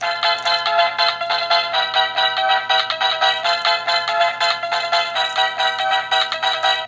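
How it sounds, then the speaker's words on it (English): A bright, chiming electronic melody plays continuously from a Jakks Pacific World of Nintendo Super Mario star plush, loud and tinkly with a bouncy repeating rhythm, no voices. "Here's a Jack's Pacific World Nintendo Star plush, still with its tag, that also makes noise"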